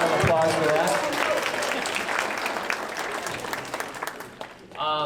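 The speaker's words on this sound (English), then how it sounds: "A quick round of applause for that." An audience applauds at a school jazz night, a full and steady wash of clapping that fades slightly toward the end. A voice can be heard under the applause.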